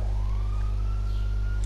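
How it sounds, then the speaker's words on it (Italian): Paramedics' ambulance siren wailing in a rising sweep over a heavy, steady engine hum, moderately loud and nearby, ending with a sharp burst of noise. "Sento anche le loro sirene"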